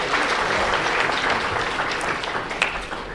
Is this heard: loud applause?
yes